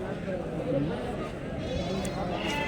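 Red rams at the Kadiri livestock market bleat amid a steady crowd murmur and nearby talk, the calls mid-distance and partly buried in the busy market noise.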